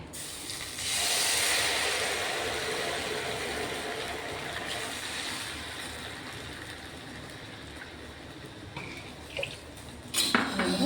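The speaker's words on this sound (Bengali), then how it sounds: "2 কাপ চিনি দিয়েছি, তো আমি 2 কাপই জল দেবো ওর মধ্যে।" Water poured steadily into a pan holding ghee, cardamom pods and sugar, giving a continuous hissing sizzle that slowly tapers, with a few clinks near the end.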